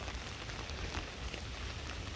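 Rain from Storm Noru falls steadily, a soft, even hiss of drops on surfaces that stays constant and fairly quiet throughout.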